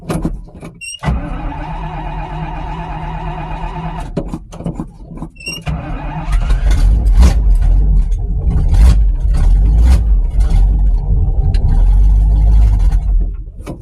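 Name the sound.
hot rod engine cold start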